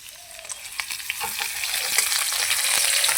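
Chopped onion with dried red chillies and bay leaves frying in hot oil for lentil dal, a close crackling sizzle broken by clicks of stirring that grows steadily louder.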